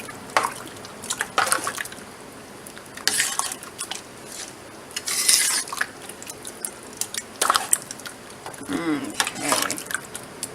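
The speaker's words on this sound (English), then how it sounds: "Let's get that stirred up in there." Chili with ginger being stirred in a pot for canning, a wet squishing and scraping of the spoon against the pot under a voice that talks throughout, moderately close and fairly soft.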